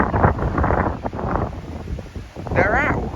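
Strong gusting wind during Storm Eunice buffets the microphone with a continuous loud rumbling roar, while a voice talks over it throughout.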